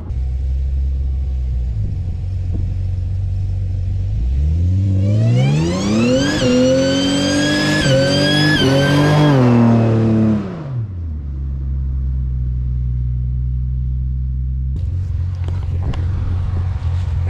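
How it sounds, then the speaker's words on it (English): A 1995 Ford Thunderbird SC idles with a low rumble, then its engine revs hard and climbs through a long, loud burnout before dropping back to a steady idle. "Just gotta blow the tires off it every now and then."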